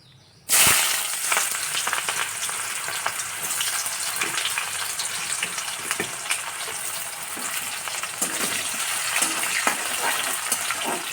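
Chopped onions hit hot oil in a kadai with a sudden loud sizzle that settles into continuous crackling frying, with stirring scrapes and pops throughout.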